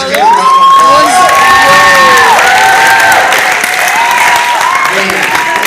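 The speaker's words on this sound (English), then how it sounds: "give her a round of applause" An audience applauds and cheers loudly for a performer, with whoops and children's shouts rising over continuous clapping, while voices call out over the noise.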